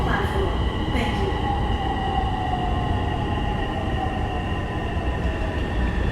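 A Bangkok Purple Line MRT metro train runs with a loud, steady rumble and rushing noise, close by, with faint high tonal whine over it.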